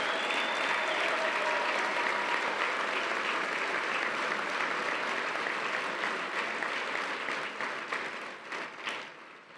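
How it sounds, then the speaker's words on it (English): A large audience at the 29th Broyles Award ceremony claps for standing coaches, a thick, sustained wash of applause that stays strong before tapering and thinning near the end. "Let's give them a round of applause."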